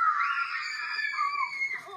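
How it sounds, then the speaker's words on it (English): People scream on a Halloween haunted attraction outing: a sustained, wavering high scream carries on for the whole stretch, fading slightly toward the end. "Warning, the screams."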